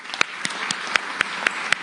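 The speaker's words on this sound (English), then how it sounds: "now if we could all give him a very warm round of applause" A small audience at a defence and security speech claps, with a few distinct hand claps standing out at an even rhythm over softer, steady applause.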